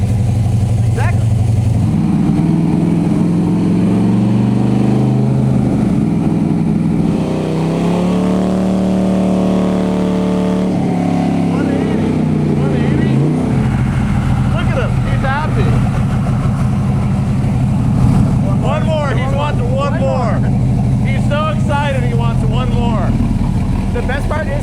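An LS V8 engine fed by three lawn mower carburetors runs loud and steady, its revs rising and dipping before settling into a rough idle, while people talk over it.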